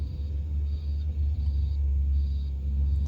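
Forklift and skid steer working in a scrap yard, a heavy low engine rumble running throughout with a repeating high beeping tone, likely a reversing alarm, in bursts.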